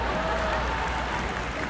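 At the HUM Awards 2025 in America, an audience applauds for actor Ejaz Aslam, a continuous, even wash of clapping from a large crowd throughout.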